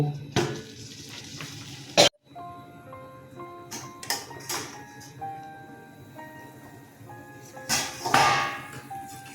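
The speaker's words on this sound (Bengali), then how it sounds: "দেখুন ঝোলটা ফুটে গেছে" Tangra fish curry broth with potato, eggplant and tomato boiling in a covered pan, a steady bubbling simmer with sharp clinks and knocks of the lid or utensils standing out at intervals.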